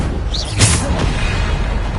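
Bombarda spell explosion in a Hogwarts game: a single sharp blast near the middle of a short stretch of busy spell-combat noise.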